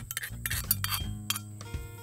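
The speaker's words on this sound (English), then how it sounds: "So we have some regular Greek yogurt. I'm gonna scoop this in here." A spoon scoops Greek yogurt into a bowl outdoors, making several light metallic clinks and soft scraping taps at close range in an irregular rhythm. No one speaks.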